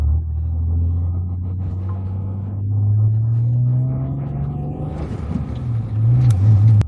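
Acura NSX at a Greddy event: deep, low engine rumble with a rising drone, then rougher juddering near the end, close and loud; people talk faintly underneath.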